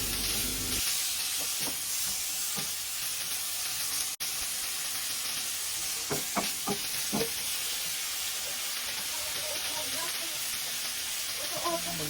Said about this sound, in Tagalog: Maglagay na po ako ng sibuyas, bawang at kamatis. At igisa po ng mabuti.